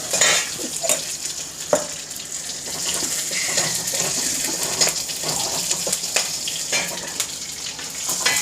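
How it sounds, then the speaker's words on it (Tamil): Green chillies fry loudly in a pan, a dense continuous sizzle broken by sharp spatters and clinks of a utensil stirring against the metal. "இது நல்லா பொரியட்டும்."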